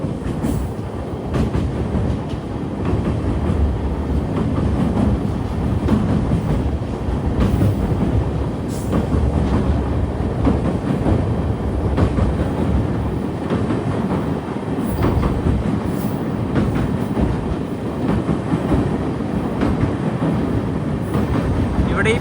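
The Rameswaram to Mangaluru Express crosses a high sea bridge, heard from inside a sleeper-class coach as a loud, continuous rumble with rhythmic clickety-clack of wheels over the track, steady throughout.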